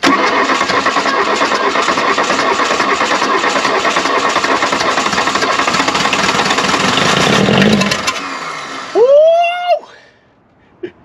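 VW Golf I diesel engine cranking with a fast, rough starter churn that runs on for about eight seconds, then catches, revs briefly and cuts out, followed by a short whistling squeal and near silence.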